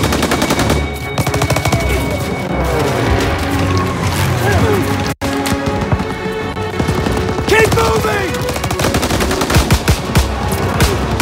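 Machine gun fire from a barn in Call of Duty: WWII's Operation Cobra, rapid rattling bursts that keep going with brief breaks, mixed with battlefield clatter and shouted voices.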